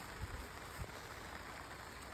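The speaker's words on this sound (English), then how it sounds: "It's raining." Soft, steady rain falls outdoors around a goat shelter, a faint continuous patter with a couple of brief soft thumps and no voices.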